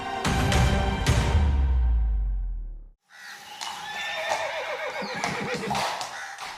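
Horses of the Indian President's Bodyguard at Rashtrapati Bhavan neigh loudly and close, a long whinny fading out, then after a short break more neighing and snorting with faint hoof clops.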